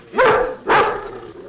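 Two feuding dogs at a dog show give two loud, close, sharp barks about half a second apart, each with a short tail fading into the room.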